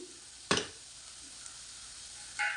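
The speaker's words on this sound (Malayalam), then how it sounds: "അതിനുശേഷം ശകലം മഞ്ഞൾപ്പൊടി ഇട്ട് കൊടുക്കാം കുറച്ച് മുളക് പൊടി" Onions with salt, turmeric and chili powder frying in a pan for okra curry give a steady, close hiss of sizzling. A sharp scrape of stirring comes early, and another stir comes near the end.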